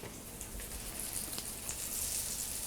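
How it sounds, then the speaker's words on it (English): Clarified butter sizzles in a frying pan, a soft, steady crackling hiss that runs the whole time without pause, fairly quiet and heard alone. "Again, wait for the sizzle."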